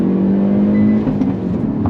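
A 2022 Hyundai Veloster N with a six-speed gearbox pulls hard under throttle, its engine giving a loud, close, droning growl that rises slightly in pitch as it accelerates.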